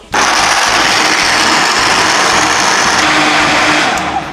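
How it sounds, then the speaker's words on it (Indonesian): A kitchen blender whirs loudly as it blends soaked almonds with a litre of water for plain almond milk, starting abruptly and running as a steady, close, high-powered roar. "sekarang kita blender dulu"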